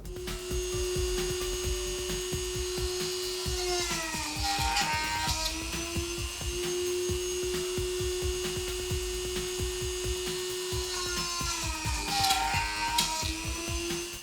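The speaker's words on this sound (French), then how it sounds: "on va maintenant percer nos trous sur la perceuse à colonne." A drill press's steady motor hum runs throughout while drilling holes in a drone frame, with the pitch dipping briefly twice as the bit bites in, accompanied by faint scraping and grinding.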